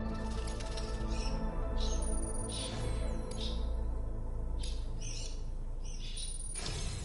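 Birds chirp and squawk in a video game over a constant low ambient drone, with repeated short high calls scattered through the scene.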